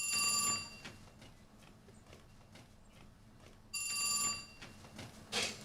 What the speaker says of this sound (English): Ironically, Sam answered the phone